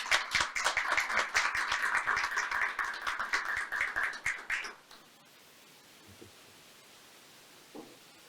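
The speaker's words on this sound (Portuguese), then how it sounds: "Uma salva de palmas mais uma vez" An audience at an honorary doctorate ceremony claps in a brisk, fairly close burst of applause with distinct individual claps, which stops abruptly partway through and leaves quiet room tone with a few faint sounds.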